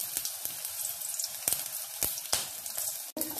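Finely chopped garlic and a green chilli sizzle in two spoons of oil in a kadai, a steady close crackle punctuated by sharp pops and spatters, with no talk.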